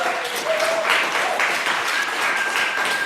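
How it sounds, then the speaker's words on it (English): A literary event audience claps in steady, full applause, loud and continuous with a few faint whistles over it. "but we're going to have a big round of applause for Alejandro, Murguía,"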